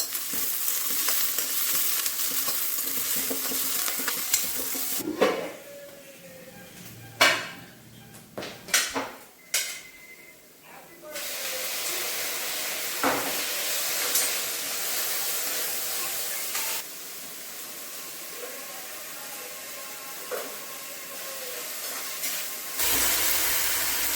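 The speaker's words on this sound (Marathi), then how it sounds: "इथे मी मटकीचा डाळ कांदा बनवत आहे." Moth bean dal and onion fry in a pan with a steady sizzle, broken by several sharp clanks and scrapes of stirring in the middle before the sizzle returns.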